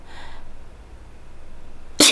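A single sharp sneeze bursts out loudly at the very end, after a couple of seconds of quiet room hush.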